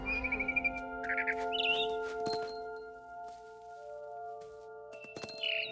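Barn swallow chirping in the What Remains of Edith Finch video game: bright, quick twittering calls in short separate bursts over soft tonal ambience, some trills near the start and another near the end, moderately close.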